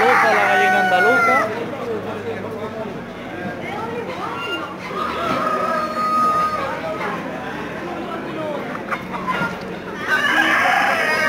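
Roosters crow and hens cluck in a busy poultry fair hall at an international show in Reggio Emilia, Italy, with a steady background of people talking over the birds.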